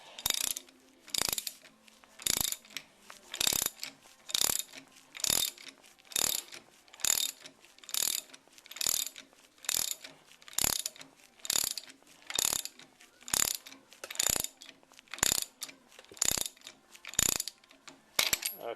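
Rapid ratchet clicking in steady repeated bursts, about one stroke per second, as a socket wrench draws a bushing into the housing of a 1965 Dodge D100; close, crisp, and alone.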